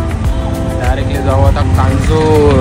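An auto rickshaw engine running steadily with a low putter and road noise beneath the ride, while people talk close by over it.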